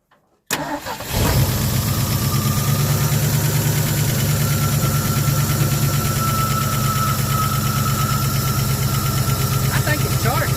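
A 1974 Ford F100 pickup, parked for 21 years, cranks over and catches, then settles into a loud, steady, slightly rough idle with a rhythmic low throb and faint knocking, close by.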